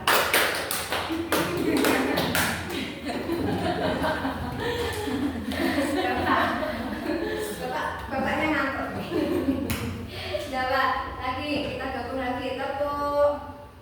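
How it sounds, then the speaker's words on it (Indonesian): A group of teachers in a training session clap in counted patterns, sharp bursts of claps with pauses between them, mixed with a leader's voice giving instructions and some chuckling. "Sekarang kalau dua tepuk langsung sambil kita konsentrasi"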